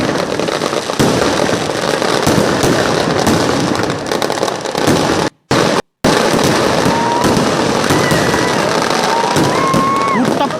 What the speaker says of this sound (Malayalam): വ്യത്യസ്ത നിറങ്ങളിലും വ്യത്യസ്ത രൂപങ്ങളിലുമുള്ള വർണ്ണ വിസ്മയങ്ങൾ വിതറിക്കൊണ്ടുള്ള വെടിക്കെട്ടാണ് പ്രേക്ഷകർ ഇപ്പോൾ കണ്ടുകൊണ്ടിരിക്കുന്നത്